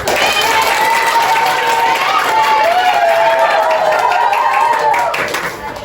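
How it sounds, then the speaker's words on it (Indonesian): A classroom of students clap together for a classmate, a steady dense patter of hands that holds loud for several seconds and thins near the end, with a sustained whistle-like tone running through it. "beri tepuk tangan"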